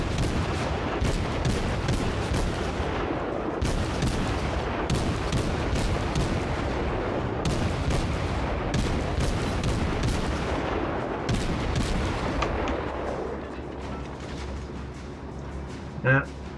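Naval gunfire from World of Warships, dense overlapping booms and shot reports rumbling almost continuously, loud and busy, then easing off near the end with one last sharp hit.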